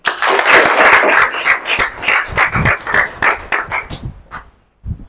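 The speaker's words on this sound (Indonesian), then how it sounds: "Mari kita beri aplaus buat kelompok 1." A classroom audience applauds a student group, dense clapping that is loud at first, then thins into scattered claps and stops near the end.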